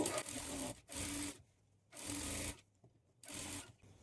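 A sewing machine runs in four separate bursts while stitching two Punjabi dress pant pieces together, each close, loud whirr lasting about half a second with quiet gaps between.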